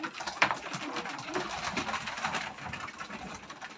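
Racing pigeons coo in a loft, soft burbling calls close by with faint rustling and a low hum in the background.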